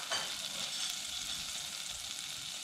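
Cloves, cardamom and spices sizzle steadily in melted Rama margarine, a continuous bright frying hiss throughout with no voices.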